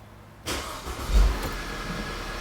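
An Audi A4 B8 2.0 TFSI engine cranks and catches after a fuel filter replacement, then settles into a steady idle with a brief rise in revs just after it fires.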